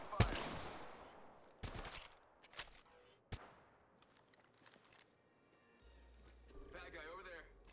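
Scattered gunshots from the video game Apex Legends, a few sharp isolated cracks spaced over several seconds, some near and some distant, with quiet stretches and game sounds between.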